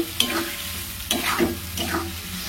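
Spices sautéed and stirred in a pan for matar paneer: three spatula scrapes land at regular intervals over a steady, close sizzle, with no talking.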